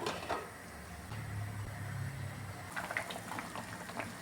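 Chicken biryani rice boiling in a covered pot, a faint steady bubbling simmer with a soft low rumble, brief clinks of a lid or utensil near the end.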